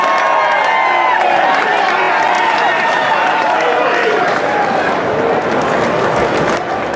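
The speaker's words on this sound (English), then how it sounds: "The Acclam Express owners have had a ball, cheering their hero in." A racecourse crowd at Royal Ascot roars and cheers as a Group 1 winner comes in during the King's Stand Stakes, loud dense shouting and whooping with scattered applause, under a commentator's voice.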